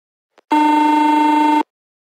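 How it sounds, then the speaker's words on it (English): A single steady electronic buzzer sounds in an Airbus A320 cockpit for a cabin-to-cockpit call, a loud, even tone lasting about a second after a faint brief click, then silence. "In the cockpit, a single buzzer sounds, and the amber attendant lights flash on all the audio control panels."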